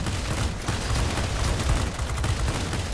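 Sustained aircraft machine gun fire from a Bf 109 G in World of Warplanes, a dense continuous rattle with rumbling engine noise, loud and steady throughout with no talking.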